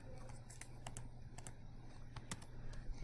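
Quick bursts of key clicks on a computer keyboard as an answer is typed, uneven taps over a low steady hum, close and fairly quiet.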